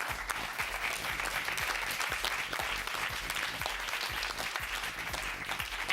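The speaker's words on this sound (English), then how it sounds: "Let's give a big hand to your captain, Ed Puccinelli." An audience at a quiz bowl competition claps for a team captain, a steady, dense applause that holds evenly throughout without voices.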